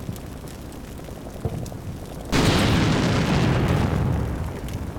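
A tank cannon fires and an explosion strikes an M1 Abrams in the Combat Mission war game: a sudden heavy boom cuts through low ambient rumble and rolls on loudly for a couple of seconds before easing off.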